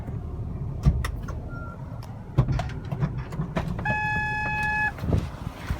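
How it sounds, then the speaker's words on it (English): A car sits idling with its air conditioning running on a hot day, a low steady hum broken by a few thuds and clunks, and a brief electronic chime partway through. "I just keep my car going with air conditioning because it's freaking hot out."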